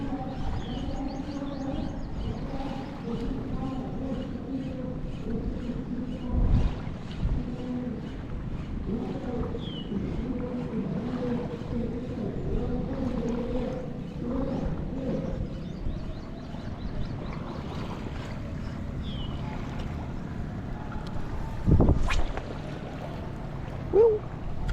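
Steady wind rushes and buffets the microphone for a long stretch while fishing outdoors, with low gusty rumble and faint distant sounds beneath, no talking.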